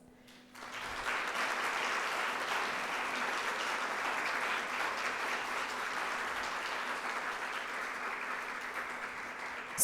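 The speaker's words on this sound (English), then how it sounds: "Let us have a round of applause for these special guests." Audience applause for special guests at the opening of a seminar for English teaching professionals, a steady, dense round of clapping that starts after a brief quiet moment and holds evenly to the end.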